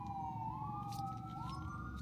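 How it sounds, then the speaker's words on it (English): Emergency vehicle sirens in New Jersey, a wailing tone sweeping up and down over steady traffic noise, moderately distant and continuous throughout. "Welcome to New Jersey, land of the sirens."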